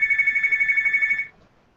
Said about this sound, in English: Ring, ring, ring. Phone call.